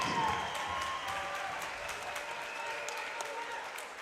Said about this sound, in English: big round of applause for these two fighters